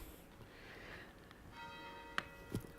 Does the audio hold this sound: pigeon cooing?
no